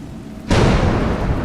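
A sudden loud burst of heavy rain and rumbling thunder in the video game The Circus: A Juggler's Tale, starting abruptly and sustaining as a dense, roaring wash.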